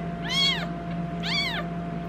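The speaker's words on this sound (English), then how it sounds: "she has the most distinctive meow out of this group" A newborn bottle-fed foster kitten gives two clear, high rising-and-falling meows about a second apart, close and fairly loud over a faint steady background hum.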